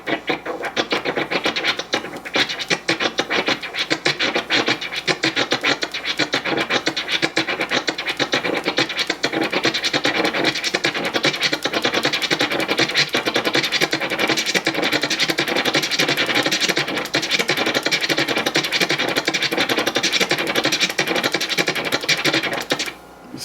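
Turntable scratching of a snare drum sample, moved in small back-and-forth strokes with a finger on the record; a dense, continuous run of scratchy bursts, loud and steady throughout with no talking.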